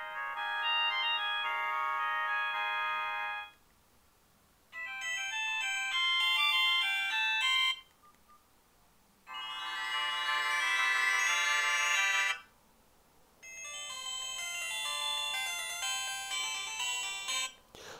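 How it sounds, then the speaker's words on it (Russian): Short electronic melody alerts from a Panasonic KX-TF200RU push-button phone play one after another, four bright chiming tunes separated by brief pauses, clear and close with no talking. "тут целых 5 мелодий на сообщение"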